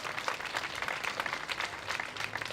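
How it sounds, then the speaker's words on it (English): A live audience at a groundbreaking ceremony in downtown Fargo gives a steady round of applause, dense clapping held at an even level throughout without a clear peak. "Let's see a big round of applause if we can agree with that."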